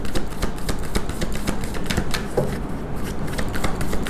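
A tarot card comes off the deck amid close, rapid papery shuffling and flicking, crisp taps and rustles repeating throughout.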